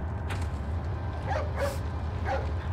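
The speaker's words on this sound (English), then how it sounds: "Hey, it's that dog." A dog in the video game Resident Evil 4 gives a few short barks and yips amid game ambience, moderately close over a low rumbling background.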